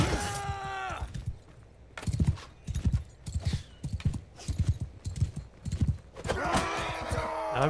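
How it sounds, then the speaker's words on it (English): Horses in the video game Bannerlord gallop past with rapid rhythmic clip-clop hoofbeats in repeated bursts, and a whinny near the start and end rises over the clatter. "my sumpter horse does not go fast enough to actually catch this bad boy"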